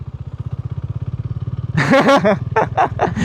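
Motorcycle engine idling and pulling steadily in second gear with no clutch during parking-lot practice, a close, even pulse that turns into louder, choppier revving bursts toward the end.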